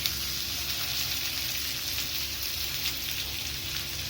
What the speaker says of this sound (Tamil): இப்போது பூண்டு நல்லா வதங்கிருச்சு